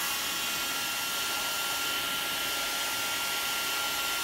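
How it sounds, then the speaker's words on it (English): Steady, even rush of a heat gun blowing hot air onto a mountain bike fork leg lower during disassembly, a constant close broadband hiss with no breaks and no voices. "I've had the heat gun on here for about 5 minutes"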